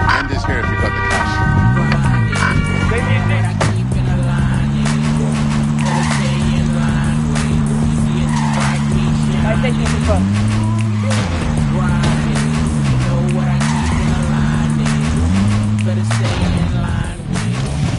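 A car in a video game drives under a loud, steady engine drone that shifts pitch as it accelerates, with tire squeals cutting in near the start and players talking throughout.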